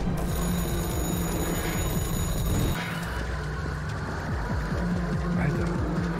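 A telephone ringing in a horror video game, a repeating electronic ring over a busy background of game sound and low engine-like rumble.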